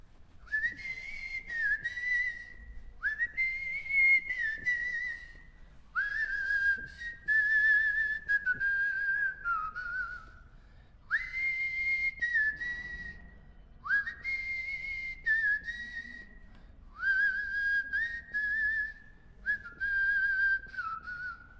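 Eight evenly spaced whistle blasts of about two seconds each, with short gaps between them. Each is a steady, bright, fairly loud tone with a slight wavering pitch, heard alone during a break in a physics lecture.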